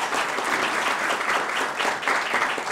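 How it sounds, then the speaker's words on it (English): Applause for Tony Lopez, a board member honored at a veterans recognition breakfast: a brief, dense burst of clapping from a room of guests, loud and even throughout with no speech over it. "Give him a round of applause as well"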